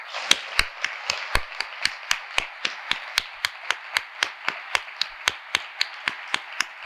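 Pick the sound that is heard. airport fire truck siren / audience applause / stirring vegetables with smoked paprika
audience applause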